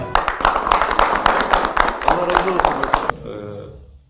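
Audience applause at a Şanlıurfa municipal press statement on a collective labour agreement, a dense burst of clapping that carries loudly for about three seconds, then fades away quickly into a quiet tail.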